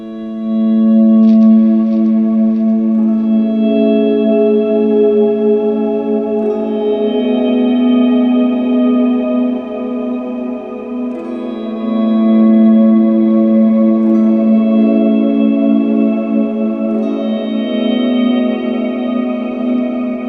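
Electric guitar swells fed through an analog delay and stacked washy reverbs, in a worship style. Notes fade in softly and blend into a sustained, shimmering pad with echoing repeats, loud and steady, with no talking.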